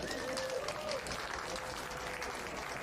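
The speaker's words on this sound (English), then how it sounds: "You can clap loud." Audience at a live comedy show in Chicago claps steadily for about three seconds, a dense, even wash of hand claps with faint voices mixed in.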